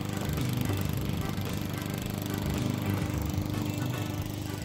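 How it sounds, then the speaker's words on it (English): A lawn mower engine runs with a steady, droning rumble at constant speed. It stays fairly close and is heard alone. "But I have to mow the lawn."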